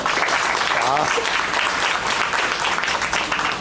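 An audience claps during a stage talk in Guruvayur, a dense, sustained round of applause at even volume throughout, with no break.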